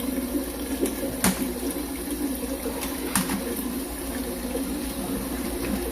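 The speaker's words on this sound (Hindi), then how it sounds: "ये जैगवार की कंसील टैंक है। सीट के अंदर लगातार पानी चल रहा है।" Water runs steadily inside a Jaquar concealed toilet cistern hidden behind the wall, a continuous low trickling hiss with a few brief knocks and clicks close by.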